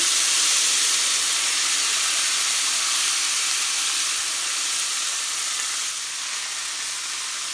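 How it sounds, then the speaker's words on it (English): Seasoned vegetables sauté in butter and olive oil in a pan for Southern cornbread dressing, making a loud, continuous hissing sizzle that fades only slightly over time. "So they are sauteing really good."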